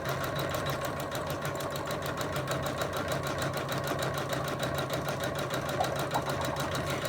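A Janome embroidery machine stitches out a lace coaster in metallic silver thread, a fast steady mechanical chatter with regular rapid needle beats and a low motor hum, continuous and close with no talking.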